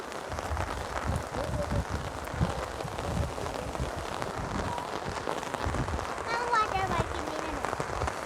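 Heavy monsoon rain pours without a break at Milan Chowk in Okhaldhunga, a dense, steady hiss of drops hitting surfaces, with voices faintly mixed in.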